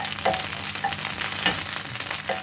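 White scallion pieces sizzling in a pan over medium-high heat, a steady crackle broken by several sharp spoon-stirring clinks and scrapes, close and fairly loud, no voices.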